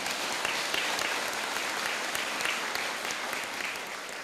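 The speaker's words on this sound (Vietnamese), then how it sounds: "hãy cho một tràng vỗ tay thật lớn nào" Steady, dense applause from a large audience at a Vietnamese New Year gathering, many hands clapping continuously at a loud, even level for the whole stretch with no voices standing out.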